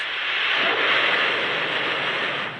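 A loud, continuous broadband roar from a firing rocket engine, steady and powerful throughout, without a break.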